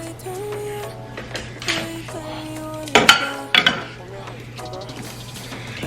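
Chopped ginger goes into a cooking pot with a couple of sharp metallic clanks and rattles at mid-clip. A person talks over lighter kitchen clatter before and after.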